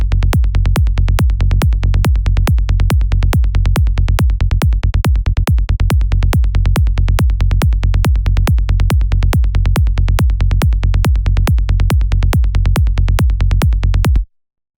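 Psytrance bass preset from the Vital synth, Lemuria, pounding in a fast, relentless rolling pattern of short, punchy low notes, loud and continuous for about fourteen seconds before cutting off abruptly.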